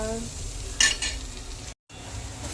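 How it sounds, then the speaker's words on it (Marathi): Onion frying in oil with garlic, cumin and mustard seeds, a low continuous sizzle with one brief stirring scrape of a utensil against the pan. "इथे मी कांदा असा टाकून घेतलाय छान ब्राऊन सुद्धा झालाय याच्यात फक्त लसूण जिरे मोहरी आणि कांदा आहे"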